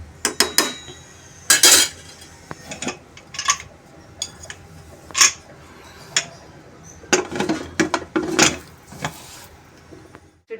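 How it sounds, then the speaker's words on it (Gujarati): A metal pressure cooker lid is handled and shut while making fada lapsi, giving a series of sharp metallic clanks and clinks at uneven intervals, close and fairly loud, with quiet gaps between them. "હવે આપણે એનું ઢાંકણું બંધ કરીશું."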